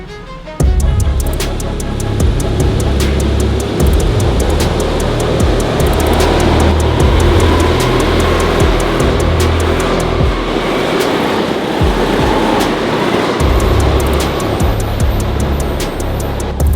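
Go-karts racing on a track, a loud, sustained engine drone with steady buzzing and passing whine, heard close throughout after an abrupt start, with no talking.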